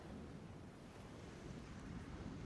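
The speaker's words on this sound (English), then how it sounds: "These are the waves that arched and crashed, that foamed and frolicked, and sprayed and splashed" Ocean waves surge and splash as a sound effect under a children's story read aloud about a snail and a whale, giving a continuous broadband wash of surf with wind-like rushing and no voice.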